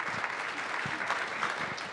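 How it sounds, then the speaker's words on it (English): Faint, soft applause from an audience at a public forum on violence in Portland, an even patter of many hands heard from a distance with a few slightly louder claps standing out. "That's a hand clap."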